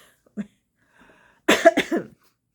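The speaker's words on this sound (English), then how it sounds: "wait, cough" A single short cough, followed a moment later by a louder pair of harsh coughs close up, with quiet between.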